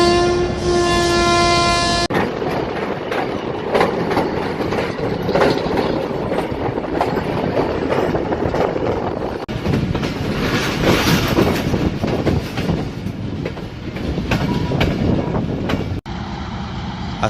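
Pakistan Railway's 147UP Miyanwali Express at night: a loud horn blast opens, then the train's heavy rumble and clattering wheels roll on continuously, close and loud.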